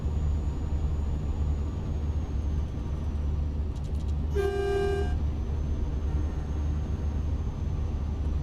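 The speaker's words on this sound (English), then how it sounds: "Sounds really weird, this horn. Sounds like a train horn." A single steady vehicle horn blares for about a second, deep and tonal like a train horn, over the constant rumble of road and engine noise.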